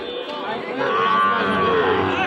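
At a crowded cattle market, a young bull calf about five to six months old gives a drawn-out moo of middling loudness, heard over a busy background of crowd murmur and distant voices.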